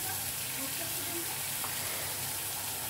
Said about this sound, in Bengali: এই সমস্ত মশলা দিয়ে দেব তেলের মধ্যে।